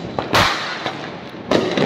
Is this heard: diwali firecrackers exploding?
yes